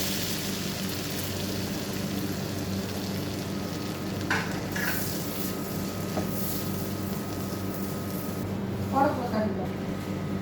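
Garlic, green chillies and onions sizzle steadily in a pan, with a constant frying hiss and a few brief stirring scrapes, while a person talks over it.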